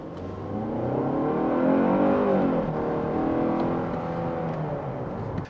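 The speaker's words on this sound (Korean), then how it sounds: "지금 잠깐 풀악셀을 했는데" A Kia K8 2.5 sedan in sport mode at full throttle gives a rising engine drone heard from inside the cabin, with pitch climbing through the gear and easing off near the end.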